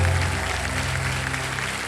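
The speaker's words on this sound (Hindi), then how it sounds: "जोरदार तालियां बन जाती हैं।" A studio audience at the Kaun Banega Crorepati TV quiz show claps loudly for a couple of seconds, the applause layered over sustained low musical tones.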